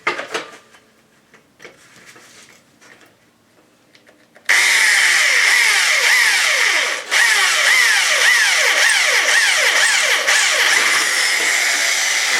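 A power drill bores a small 6 mm hole through a metal chain guard, starting abruptly after a quiet stretch and running loud and steady for about eight seconds, with a brief dip midway.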